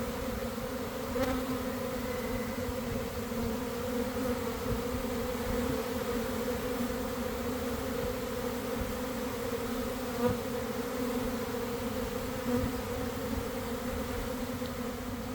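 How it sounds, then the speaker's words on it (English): A very large swarm of honey bees drones steadily and close by, a dense, continuous buzz with a few faint knocks and no talking. "It's a very big swarm of bees."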